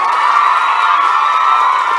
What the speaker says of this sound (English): give yourselves an even bigger round of applause now